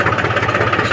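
A tractor engine idles close by in a short, loud burst of rhythmic low chugging with a steady vibrating pulse, and nothing else is heard.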